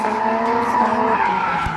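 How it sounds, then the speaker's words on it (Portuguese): Nissan R30 drifting with tires skidding and squealing in a sustained, loud screech over a revving engine, close by and without talk. "já tá fazendo drift com a R30 dele"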